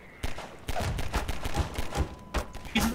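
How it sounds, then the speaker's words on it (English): Rapid bursts of gunfire ring out in the Half-Life 2 co-op mod Synergy, a series of sharp, loud shots and short volleys over about three seconds with no one speaking. "Because they're shooting at me."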